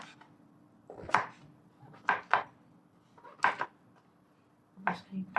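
Oyster mushrooms being cut on a board, a series of sharp knife taps in small clusters with pauses between, close and clear against a quiet kitchen background.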